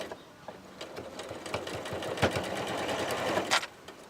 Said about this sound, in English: I'm going to use my foot to guide where I'm sewing, and I'm just going to take it slow